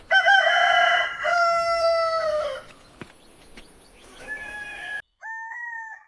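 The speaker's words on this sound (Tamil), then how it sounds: "அம்மா சேவல் கத்துச்சு." A rooster crows loudly twice in long drawn-out calls close by, followed by a shorter, fainter crow after a brief pause.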